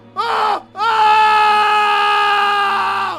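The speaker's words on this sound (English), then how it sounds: "his painful screams echoed through my ears" A man's painful screaming in a horror scene, a short anguished cry breaking off, then a long sustained loud wail that slowly fades while still ringing out.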